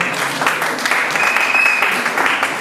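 Guests at a Congolese wedding applaud and cheer to welcome the pastor, with a brief burst of steady clapping and a shrill whistle rising over it.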